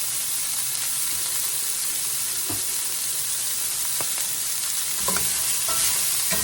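Vegetables fry in oil for a smothered chicken dish, a steady broad sizzle punctuated by a few sharp scrapes and knocks as they are stirred around the pan, close up with no voices.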